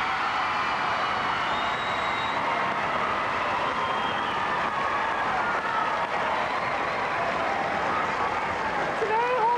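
Studio audience applause on a Dutch television game show, a dense steady wash of clapping filling the whole stretch, with faint voices and murmurs mixed underneath.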